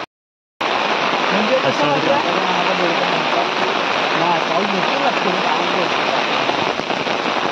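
Heavy rain pours down in a village during the monsoon, a dense, unbroken roar of falling water that starts abruptly after a brief silence and stays loud and steady throughout, with no talk.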